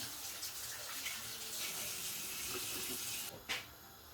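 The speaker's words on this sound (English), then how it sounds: "Quickly wash my hands." A kitchen tap runs steadily as hands are washed, a soft continuous gush of water that cuts off near the end with a brief splash.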